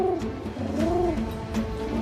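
Soft, low pigeon coos repeat close by, several overlapping in a gentle rolling murmur.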